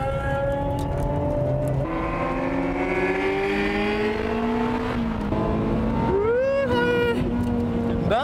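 A Porsche race car accelerating hard at Suzuka circuit in a close GT battle, with engine notes climbing through gears and another car sweeping past in a rising then falling whine, loud and continuous.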